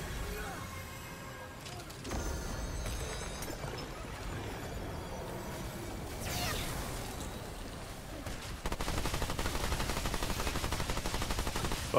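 Rapid gunfire while shooting an enemy in the video game Remnant 2, a dense rattling burst near the end over game ambience and earlier scattered shots.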